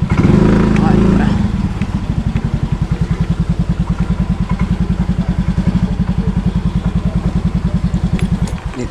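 Motorcycle engine running close by, a loud rev at first that settles into a steady, rapid idle thump with even chugging pulses until it cuts near the end.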